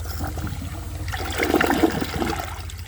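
An American Standard Townsend Vormax toilet, a 2018 model, flushes a washcloth in one loud, close rush of water that swells and gurgles midway, then drains steadily.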